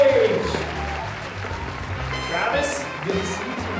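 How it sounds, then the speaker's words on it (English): An audience claps and cheers for a guest joining the stage at a live evening show, a dense wash of applause under a voice speaking over it, fading slightly partway through. "Let's all make a round of applause as Travis joins us over here on the stage."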